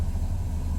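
A 1970 Lancia Flavia Milleotto Berlina engine with a Solex carburettor idles with the choke pulled, a steady low rumbling throb at unchanging revs, close and fairly loud, with no voices.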